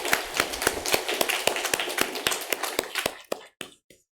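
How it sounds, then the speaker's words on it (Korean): Church congregation clapping in unison during a Sunday worship service, a steady rhythmic beat of hand claps at moderate distance that slows and breaks off into a few scattered final claps. "우리 하나님께 감사와 영광의 박수를 올려드리겠습니다."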